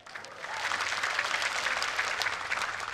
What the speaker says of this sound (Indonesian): Tepuk tangan untuk PaSKI.